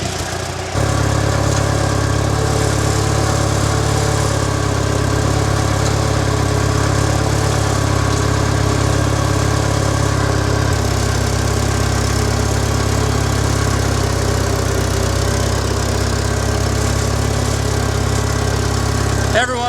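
A John Deere 1240 tractor engine runs steadily while planting corn in a field, a loud, close, continuous droning hum that holds even throughout after a brief start.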